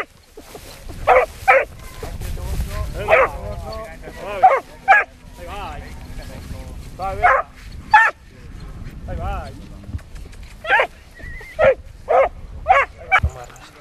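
Hunting dogs bark and yip repeatedly on a wild boar trail during a hunt, the sharp, fairly close barks coming in irregular bursts over steady background rumble, with someone speaking at points.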